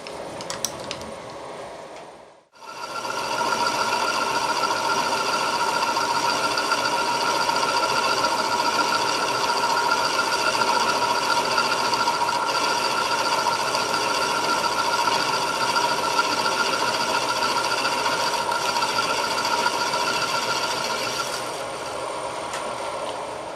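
Steady machine tool cutting plastic stock for pattern making, a continuous even whirring and mechanical hum after a brief pause near the start, holding level for about twenty seconds without talk.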